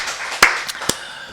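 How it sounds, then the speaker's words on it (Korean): A church congregation claps during a Wednesday worship service, a few sharp separate claps over a soft background wash. "우리 박수를 하나님께 영광 드리겠습니다."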